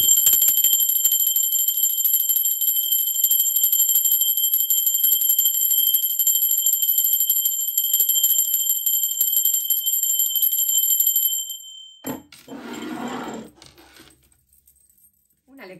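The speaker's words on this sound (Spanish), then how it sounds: "Ahora sí, va campana, disculpen." A bell rung to open a tarot reading gives a bright, sustained high ringing for about eleven seconds, then stops, followed by a short rustling noise.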